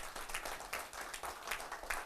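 Audience at a lecture hall clapping for one another, a faint, scattered patter of hands in loose bursts over about two seconds.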